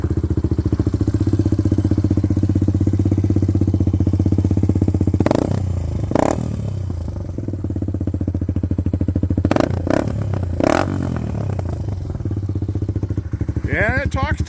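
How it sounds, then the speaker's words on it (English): A Suzuki DR200 dirt bike's small single-cylinder engine runs loudly close by with a rapid popping putter, briefly blipped a few times in quick bursts. "Listen to that bad motor scooter."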